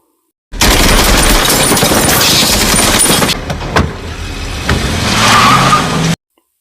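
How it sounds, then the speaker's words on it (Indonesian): Gunfire aimed at a car in an action film scene, loud and dense, a sustained burst of shots and impacts with skidding tires that eases briefly midway and then builds again before cutting off. "lalu menembaki mobil Bert"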